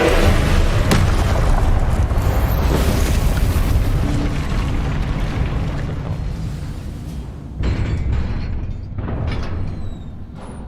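Incendio fire spell blasting in Hogwarts Legacy, a loud continuous roaring boom of flame and impact that slowly fades, then a second smaller surge near the end.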